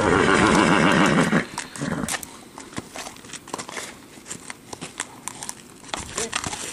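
A horse whinnies loudly and close by during trailer loading, a long quavering neigh followed by hoof clops, rustling and a handler's voice.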